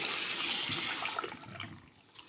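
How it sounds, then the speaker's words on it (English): Water swished and stirred by hand in a foot soak basin, a close splashing and sloshing that fades into softer trickles and drips. "Maybe I shouldn't stir that water as much."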